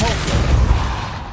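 A single booming, blast-like magic spell effect from the Hogwarts Legacy video game, a short loud burst with a rumbling low body that tails off quickly.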